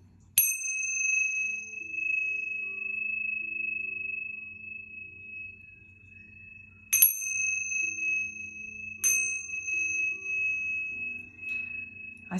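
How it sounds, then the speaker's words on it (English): Tingsha bells are struck together three times, each strike a bright, piercing ring that hangs and slowly fades, with a quiet, low background hum between strikes. "I'm just going to use the tincture bells and cleanse the energy a little bit."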